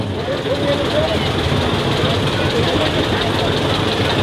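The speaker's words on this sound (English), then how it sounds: "John Deere A, made in 1937, coming up here to the viewing stand next" A 1937 John Deere A two-cylinder tractor engine running at a parade of power, a steady low rumbling idle, close and loud, with an announcer talking over it on a loudspeaker.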